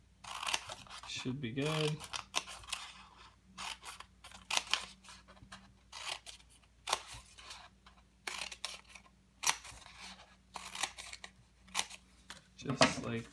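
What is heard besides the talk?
scissors snipping paper for an origami/kirigami fish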